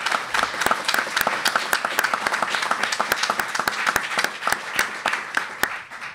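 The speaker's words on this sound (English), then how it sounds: "and if we could give him a round of applause." A school audience in New Orleans applauds a World War II veteran at a Band of Brothers panel: dense, lively clapping from many people, with sharp individual claps standing out above the steady patter throughout.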